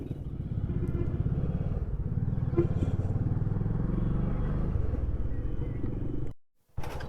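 A Yamaha FZ25 motorcycle runs while being ridden, its engine giving a steady, loud, low rumble that continues for several seconds, briefly cuts out near the end, then returns.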